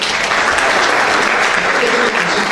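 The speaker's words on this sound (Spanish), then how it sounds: "Fuertes los aplausos." Dense, steady applause from an audience at an award ceremony, Los Mejores del Perú 2013, filling the room evenly and loud without pause or talk.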